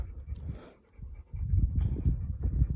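A hunting dog panting in quick, rhythmic breaths close by during a wild boar hunt, with low rustling and a brief lull partway through.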